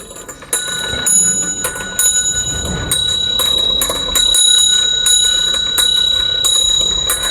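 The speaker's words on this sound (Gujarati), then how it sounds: "આ વિદ્યુત ઘંટડીનો અવાજ આપણને સંભળાય છે" A homemade electric bell, its copper coil turned into a small motor, rings loudly and continuously, a bright metallic clatter that keeps going with barely a break.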